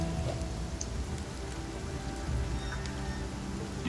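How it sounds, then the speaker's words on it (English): Steady rainfall in the fantasy role-playing game Pathfinder: Kingmaker, a continuous dense patter of drops with a low rumbling wash underneath, even and unbroken throughout. "it's raining pretty good here"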